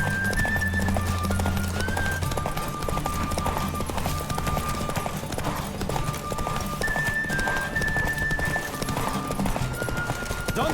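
Galloping horse hooves in The Witcher 3: Wild Hunt during a race, a steady rapid clip-clop under continuous game music, with a brief whinny.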